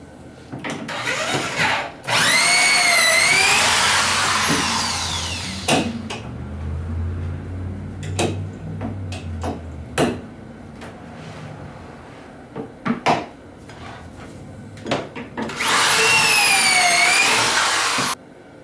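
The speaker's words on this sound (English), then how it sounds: "I've got the proper drill bit chucked in the drill, and I'm ready to go." Two loud bursts of a power drill whining as it bores pocket holes into wood cabinet sides, with clunks and knocks of pieces being handled between them.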